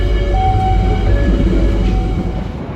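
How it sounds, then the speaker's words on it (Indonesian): The Gunung Jati passenger train pulls away from Pekalongan station, a loud, close, continuous rumble with steady tonal whine layered over the low roar. "Kereta api Gunung Jati sudah meninggalkan stasiun Pekalongan"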